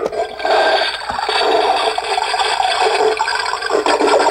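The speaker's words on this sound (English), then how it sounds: "If you have a need to hear a toilet flush, here's one I got for my birthday." A toilet flushes loudly and up close, a rushing, gurgling wash of water that holds steady for several seconds.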